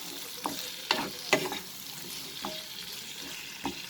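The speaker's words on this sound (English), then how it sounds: "I'll mix it." Potatoes and wild spinach fry in a pan while a utensil stirs them, giving a faint steady sizzle broken by a few sharp scraping strokes spaced about a second apart.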